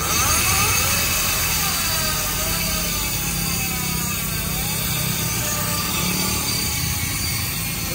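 Loud, steady motorcycle engine roar with rising and falling revs, continuous and close, no voices.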